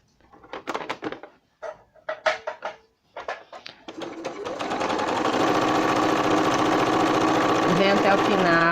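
A sewing machine stitches a fabric pennant for a bunting garland, running steadily and continuously for several seconds after bursts of nearby speech, fairly loud and close.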